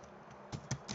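Quiet keystrokes on a computer keyboard while writing a short text description, a few soft clicks spaced out over a faint background.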